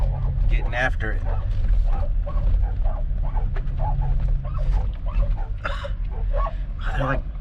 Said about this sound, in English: I got dogs on me,